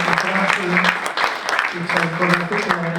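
Audience applause at the Premio Targa48 2024 award ceremony, a steady wash of clapping with a voice speaking over it and a background musical tone throughout.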